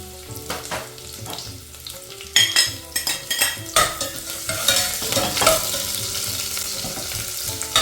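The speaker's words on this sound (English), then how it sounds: "And then I'm adding my chopped onions." Chopped onions dropped into hot oil with curry leaves, bursting into a loud sizzle with sharp spatter and stirring clatter of a utensil against the pan, continuing as a dense frying hiss.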